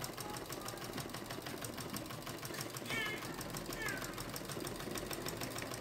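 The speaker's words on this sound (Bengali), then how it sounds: "আর এখানে আমি এটা পায়জামা এখন সেলাই করতেছি" A sewing machine stitches a pajama hem in a fast, even mechanical patter, steady and close throughout, with a brief faint squeak near the middle.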